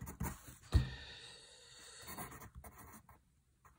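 A Dixon Ticonderoga pencil scratches across paper in a few short, close strokes, dry and papery, with a brief bump partway through and quiet gaps between the words being written.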